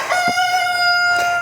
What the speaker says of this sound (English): Yes, hello rooster.